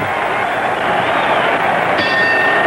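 A bright boxing ring bell rings out over a loud, roaring crowd at a 1919 heavyweight fight, its tone sustaining above the constant din.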